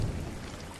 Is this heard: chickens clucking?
no